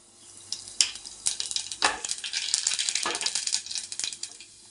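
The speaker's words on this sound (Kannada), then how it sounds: "ಎಣ್ಣೆ ಕಾಯಕ್ಕೆ ಇಟ್ಟಿದ್ದೀನಿ ಇವಾಗ ನಾನು ಜೀರೆ ಜೀರಿಗೆ ಹಾಕೋತಾ ಇದ್ದೀನಿ" Oil crackles and sizzles steadily as cumin seeds hit the hot pan, with sharp pops and bursts of spitting, no voices.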